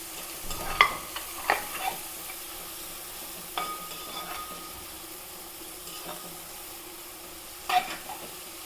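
Chopped ginger and garlic fry in a pan, a steady soft sizzle broken by occasional scraping strokes of a spoon stirring, close and moderately quiet with no voices.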